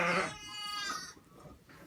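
A sheep bleats in a barn, one loud close wavering cry at the start that fades, followed by quieter livestock sounds.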